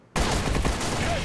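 Video game shooter gunfire, a sudden loud burst of shots that starts abruptly and sustains as a dense, rattling volley for about a second.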